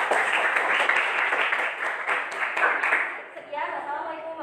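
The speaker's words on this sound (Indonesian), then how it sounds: "Aplaus buat kelompok 2." An audience at a classroom teaching-practice session applauds for a group with a steady, close burst of clapping. The clapping fades after about three seconds, and a voice starts speaking.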